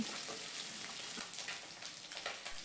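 Fish pieces sizzle and spatter steadily in hot oil in a pan over a medium gas flame, a soft, close, continuous frying hiss with small crackles and no voices.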